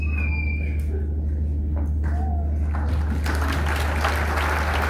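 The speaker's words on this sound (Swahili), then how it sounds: "Tuwapigie makofi." Applause for a bereaved family at a memorial tribute swells from a faint start into a dense, sustained clapping crowd over the last couple of seconds, under a steady low hum.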